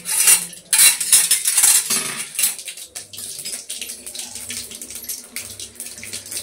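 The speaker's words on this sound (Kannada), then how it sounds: "ಒಂದ್ಸಲಿ ತಣ್ಣೀರಲ್ಲೂ ತೊಳಿತೀವಿ, ಇನ್ನೊಂದ್ಸಲಿ ಬಿಸಿನೀರಲ್ಲೂ ಅದನ್ನು ತೊಳಿತೀವಿ." Dried fish is rinsed under a running tap in a kitchen sink, with loud splashing water at first, then clattering dish and utensil knocks and quieter trickling, all close by.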